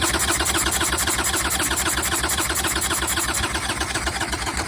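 A Harley-Davidson motorcycle engine with the choke on revs continuously at close range, a loud dense rumble with pulsing throttle changes and no talking.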